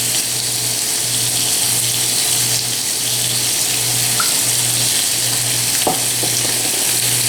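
Marinated steak sizzles loudly in a hot grill pan, a dense steady frying hiss close up throughout with a low pulsing hum beneath and no speech.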